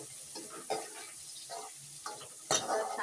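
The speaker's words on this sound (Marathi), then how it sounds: "आता याच्यात मी कांदा टाकणार भाजायला." Onion frying in a pan for a Malvani-style egg curry, a steady sizzle broken by several louder scraping stirs, close and fairly quiet with no talking.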